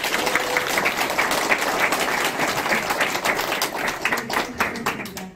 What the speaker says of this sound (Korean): 축하의 말 전해주신 일자님께도 다시 한번 감사의 박수 부탁드립니다.